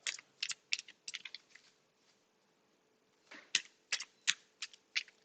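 A deck of cards is shuffled for a psychic card reading: crisp, close flicking and snapping bursts in two clusters separated by a short pause, quiet overall.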